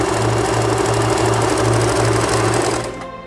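Stitching along a fabric edge on a Usha Janome machine, a rapid steady hum with pulsing needle beats sounds up close for about three seconds before tailing off quieter at the end, with no voices.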